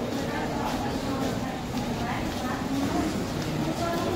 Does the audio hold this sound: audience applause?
no